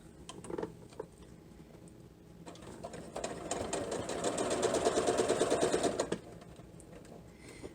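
A domestic sewing machine stitching fabric pieces for a heart-patterned table runner, starting with a few short bursts, then running steadily and close for about three seconds before stopping, no talk.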